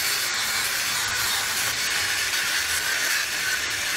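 A saw cuts through the barrel of an AR-15 rifle, giving a steady, loud, unbroken rasping hiss that runs the whole time without any voices.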